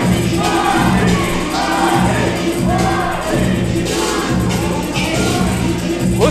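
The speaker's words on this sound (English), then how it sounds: "Listen to the crowd out here cheering for Marcy Cabrera" A crowd roars steadily at a fake fight club event, cheering for fighter Marcy Cabrera, with dense sustained noise and rising swells that carry on throughout.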